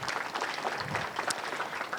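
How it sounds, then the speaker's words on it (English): An audience at a board of education meeting claps steadily throughout, a dense, moderately loud patter of many hands with no talking over it. "We could still clap for him"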